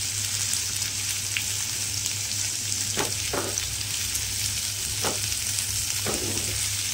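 White chicken gravy cooking in a pan on low heat, giving a steady, even sizzle and bubble throughout, with a few soft stirring scrapes partway through and no voices.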